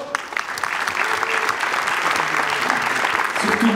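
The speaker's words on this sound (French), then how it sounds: "qu'on applaudit bien fort" An audience at a magic festival in Liège applauds loudly, a full, sustained burst of clapping with a voice speaking over it toward the end.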